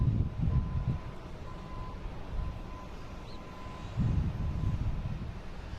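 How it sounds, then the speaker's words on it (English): A Southwest Boeing 737 MAX 8 takes off at Boston Logan, heard as a distant low jet rumble that swells, fades, then swells again near the end, with a faint steady tone over it. "Next taking off should be a Southwest heading to Chicago Midway. 737 MAX 8 flight 3911."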